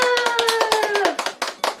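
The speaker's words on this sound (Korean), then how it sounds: "박수!" After a family cooking demonstration at a health seminar, a small group claps in quick, close, distinct claps while a voice sings out over the start.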